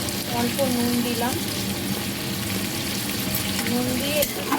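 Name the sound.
vegetables sautéing and stirred in oil for khichuri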